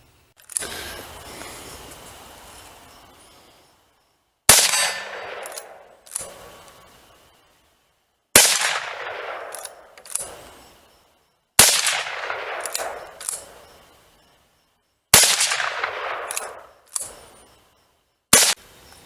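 Winchester Model 94-22M .22 magnum rifle fired at a steel target, about nine sharp, loud cracks at irregular intervals, each trailing off in a brief ringing decay, with no talking.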